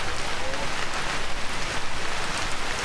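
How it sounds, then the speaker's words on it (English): Rain in the video game Vintage Story falls as a steady, dense hiss of drops on surfaces, loud and unbroken throughout. "Oh, it's raining."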